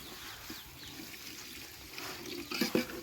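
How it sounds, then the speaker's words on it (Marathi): Water poured into a mutton masala for kanduri mutton cooked on a wood-fired village stove, a soft steady trickle that swells into louder splashing and sizzling bursts near the end, with no talk. "यात आपण थोडं पाणी घेतोय."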